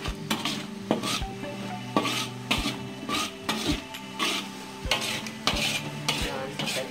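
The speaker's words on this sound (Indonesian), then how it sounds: "Aduk-aduk." A utensil stirs tempe and salted squid in sweet soy seasoning in a hot pan. Regular scraping clinks come about once a second over a steady sizzle, close up and with no talking.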